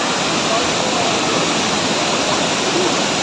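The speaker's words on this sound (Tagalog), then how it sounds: "Ito talaga ang pinaka-main ng Taytay Falls." Taytay Falls in Majayjay, Laguna, a tall main cascade: a steady, loud, broadband roar of falling water, dense and unbroken throughout, with no distinct voices.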